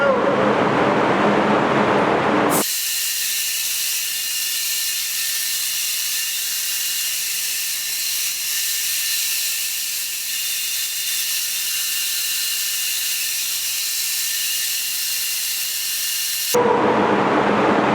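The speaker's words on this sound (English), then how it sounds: "you just seen me paint the front bumper on the Gallardo" Spray painting the front bumper of a Lamborghini Gallardo: a steady, loud hissing spray gun runs continuously for about fourteen seconds at close range, with brief noisy bursts at the start and end.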